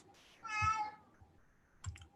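A very loud cat lets out one drawn-out, close meow, followed by a short, fainter cry, with faint clicking in the background.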